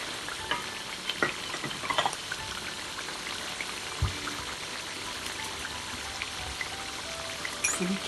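Steady crackling sizzle of spices frying in a pan for chicken kuzi, with occasional stirring scrapes and a soft clunk midway, no voices.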